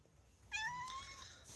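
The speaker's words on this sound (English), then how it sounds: "My little cat, look." A house cat lets out a single short, clear meow, close and quiet in an otherwise still room.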